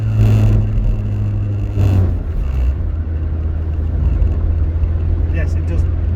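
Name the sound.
Rover R8 engine struggling to rev while driving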